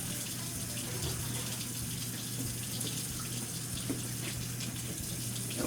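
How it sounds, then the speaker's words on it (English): Hot water runs steadily from a tap into a sink, a continuous broadband gush that holds level the whole time with no voices. "Let's see if I can get some hot water here"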